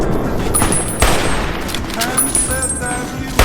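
Rifle gunshots in the video game Fallout New Vegas, several sharp cracks spaced about a second apart over a steady background of game audio and music.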